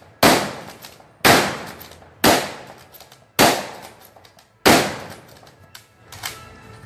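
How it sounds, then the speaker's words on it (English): Five loud rifle shots from a bolt-action M1903 at a WWII weapons demonstration in Naples, Florida, spaced about a second apart with brief pauses between, each a sharp crack with a ringing tail, no talk. "All the Marines had this bolt action rifle. It holds 5 rounds loaded from the top. You shoot, cock, shoot, cock."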